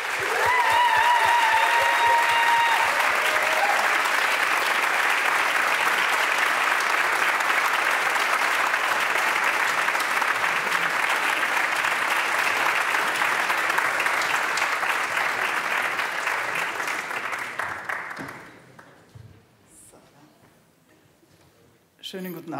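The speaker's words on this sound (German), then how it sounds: "euch bitten, einen Applaus zu spenden" Audience applause at a live concert in a Vienna hall, dense sustained clapping from a large crowd for about eighteen seconds, then fading out quickly into near silence before a voice begins.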